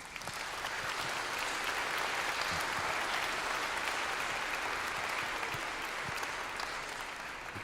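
Audience applause for fifth grade students at an elementary school spring concert, a steady dense wash of clapping from a large crowd that holds evenly for several seconds.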